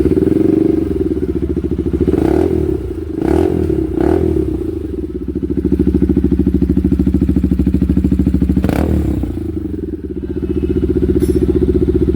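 A Bajaj NS200 BS6 motorcycle engine runs steadily after being started, following a starting-problem repair. The hum is loud and close, with a few sharp rev blips early on and one more near the end, and no talking.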